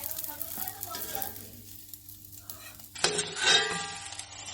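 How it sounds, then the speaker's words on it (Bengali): Eggplant slices frying in a little ghee in a covered pan, a soft steady sizzle with occasional light clinks of a utensil against the pan. "যেটুকুন ঘি দিচ্ছি এটাতেই কিন্তু আমার বেগুন ভাজা হয়ে যাবে।"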